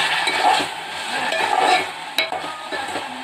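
Mutton curry frying in a pan while a utensil stirs and scrapes it, a steady close sizzle with clinks of the spoon against the metal and one sharp knock near the end.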